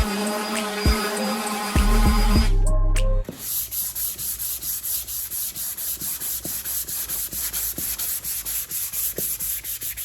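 Wood being sanded smooth for painting: after a brief louder buzzing start, a rapid, even, rhythmic rasping of sandpaper continues steadily up close.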